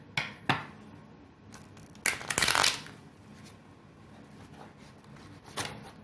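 Occasional tarot card handling: a couple of soft taps, then one loud riffling shuffle burst, followed by quiet and a final light tap.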